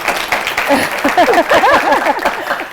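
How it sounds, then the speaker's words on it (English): A studio audience at a talk show interview gives loud, steady applause, mixed with cheering and excited voices calling out over the clapping. "Clap for that, y'all."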